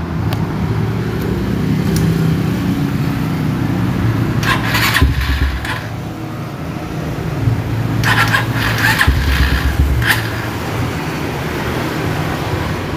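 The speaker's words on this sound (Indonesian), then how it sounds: "Sekarang kita coba nyalakan dari motor ini ya, karena ini menggunakan knalpot brong gitu ya" Motorcycle fitted with a loud brong aftermarket exhaust cranking over and running, a rough close engine rumble with a couple of sharp revving bursts partway through.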